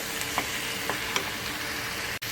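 Tomato, ginger and garlic frying in oil in a covered pan, a steady close sizzle with a few soft stirring clicks and one brief dropout.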